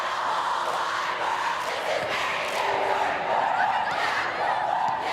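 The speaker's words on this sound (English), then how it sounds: "Got a nice crowd going tonight, too." A crowd in the stands at a state girls high school soccer championship between Millard West and Omaha Marian, a steady wash of cheering and shouting voices, loud and continuous, rising in a few swells.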